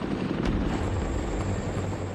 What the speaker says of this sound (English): 3 Boeing CH-47 Chinook helicopters take off from the Waterloo camp.